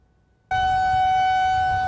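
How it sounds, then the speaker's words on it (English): A civil defense siren, tested monthly, suddenly starts up and holds a loud, steady wailing tone after a moment of near silence. "It's no secret that these sirens go off the first Wednesday of the month around 1 p.m."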